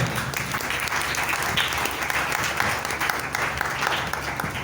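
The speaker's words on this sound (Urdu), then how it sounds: "خدا کے کلام کے لیے زوردار تالیاں بجا دیں" A church congregation at a sermon breaks into sustained applause, dense, steady clapping from many people filling the room for several seconds without a pause.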